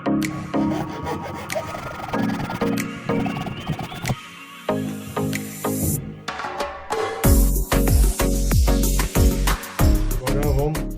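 Plastic part for a homemade vacuum pump being cut by hand, with repeated close rasping strokes, a pause, then louder, heavier scraping cuts.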